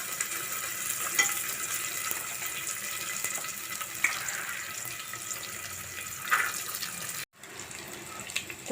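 Sprouted mung beans tipped into hot oil tempered with cumin, mustard seeds and asafoetida give a steady, fairly close sizzling hiss with a few small pops. The sizzle cuts out briefly near the end before resuming.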